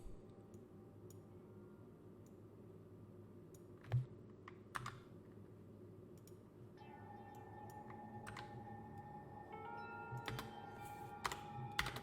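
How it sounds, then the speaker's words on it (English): Someone types on a computer keyboard in scattered, quiet clicks and a few sharper keystrokes, faint under a steady low game background hum. "I'm typing this into Google Translate"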